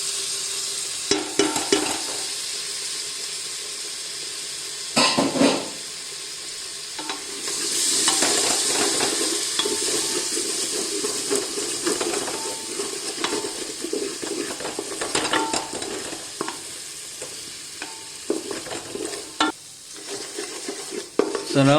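Curd fried with spice paste in oil for haleem, a steady sizzle in a cooking vessel with stirring scrapes and occasional sharp spoon clinks against the pot, close and loud throughout.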